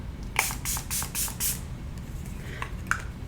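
Milani makeup setting spray misted onto the face: a fast run of about six short, close hissing pumps, then two more spaced bursts, loud and airy with no talk.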